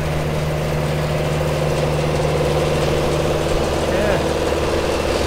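Alpine tractor with a swather mounted on the back, engine running at a steady idle-like drone, close and continuous, with a brief spoken word over it.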